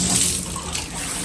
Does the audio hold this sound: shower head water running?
yes